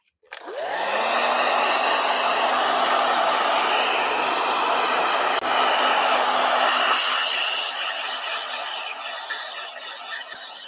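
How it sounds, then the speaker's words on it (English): A handheld blow dryer switches on and runs at a steady, loud whir while drying acrylic paint on heavy cotton paper, holding its pitch until it dies down at the end. "All right, blow dryer."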